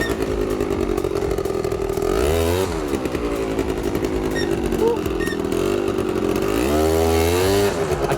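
A quad ATV engine revs hard in loud surges during wheelie attempts, pitch climbing and dropping twice with steady throttle roar between, close to the microphone.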